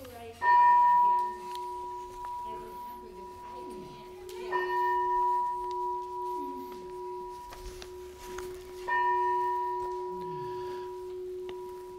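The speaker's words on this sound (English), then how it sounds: "We're going to hear the chimes" Church chimes ring before a hymn sing service, three sustained tonal strikes spaced about four seconds apart, each ringing on and overlapping in a quiet room, with faint murmurs in the background.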